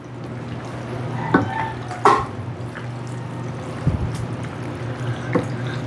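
A spoon stirs penne carbonara sauce in a pan, with soft wet scraping under low kitchen hiss and a few sharper knocks against the pan's side.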